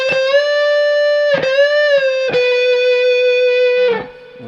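Distorted electric guitar plays a sustained blues lead phrase, with a few bent and slid notes ringing clearly on their own before fading.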